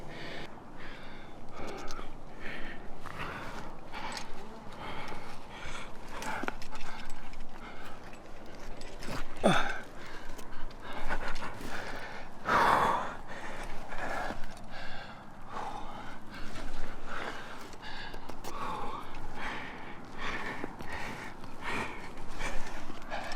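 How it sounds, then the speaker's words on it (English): Heavy, ragged breathing after hard physical exertion, with repeated gasps and snorting exhales in an uneven rhythm, close and fairly loud, with one sharp louder burst partway through. "Control your breathing."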